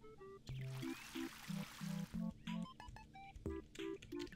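Crops are watered with a watering can in the farming game Ooblets. Soft pouring trickles come in repeated short bursts, mixed with bright melodic game chimes and background music.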